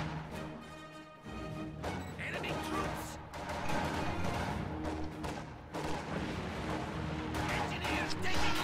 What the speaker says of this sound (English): Tons of grenades and counter grenades.